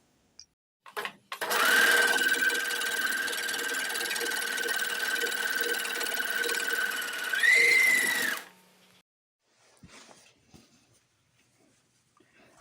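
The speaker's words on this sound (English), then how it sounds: "I'm going to serge all the edges." A serger overlocks the edges of a fabric apron, whirring in one loud continuous burst of several seconds with a high whine, then stopping, followed by a few faint handling noises.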